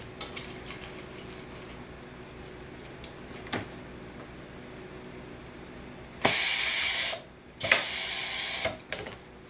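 An automatic grommet machine sets a grommet and washer in 4mm coroplast. A few sharp mechanical clicks are followed by two loud, sustained bursts of pneumatic hiss, each ending abruptly.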